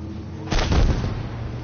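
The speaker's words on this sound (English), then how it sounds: "Is this the heavy shotgun or something?" A single heavy shotgun blast in the video game Fortnite, one loud booming shot followed by a short fading tail.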